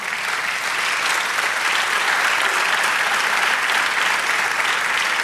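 A church congregation breaks into sustained, dense applause that stays loud and even for the whole stretch, with no voices rising above it.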